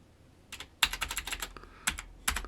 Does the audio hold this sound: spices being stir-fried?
no